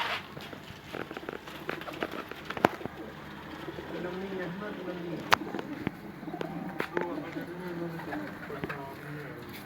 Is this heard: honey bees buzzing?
no